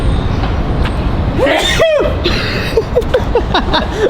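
A single sneeze bursts out amid steady background rumble, as if in a moving vehicle while traveling, followed by a few short breathy vocal sounds.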